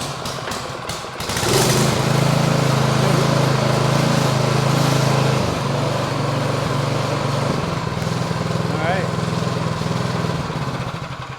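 A Craftsman snow thrower engine catches after a few faint pull sounds and settles into a loud, steady, close running drone with a slight dip partway through, while a person speaks briefly over it.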